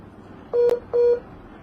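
Two steady electronic tones from a malfunctioning phone as it places a call on its own, each lasting about a quarter second and spaced closely, loud and clear over a quiet background.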